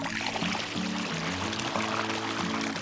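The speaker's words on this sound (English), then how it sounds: "After pouring the water" Water pours into a small pool built in a forest, a steady splashing gush over about three seconds, close and fairly loud.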